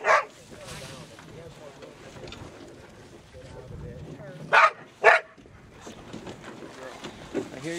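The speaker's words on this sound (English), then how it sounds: "These are some wildly misbehaving dogs of Brian" Sled dogs at a training run bark a few times in sharp, loud bursts, one at the start and two close together near the end. Someone talks over wind noise between the barks.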